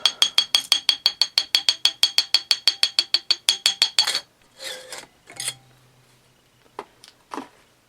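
Cylinder coming off a 1974 Honda XL70 engine with no compression: a fast, even run of about twenty crisp metallic clicks, close and clear, then a few scraping rubs and knocks as the part slides free.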